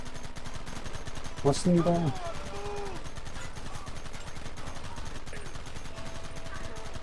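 Gunfire in the video game Red Dead Redemption, a rapid burst of shots heard over a steady rumbling background, with voices talking in the game and in commentary throughout.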